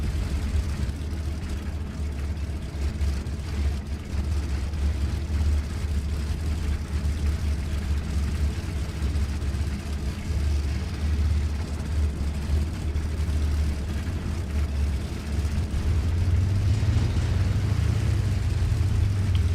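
Steady low engine drone of a fighter aircraft in the IL-2 Cliffs of Dover flight sim, one engine running while the left engine stays unstarted; a continuous rumble with a slight rise near the end and no talk.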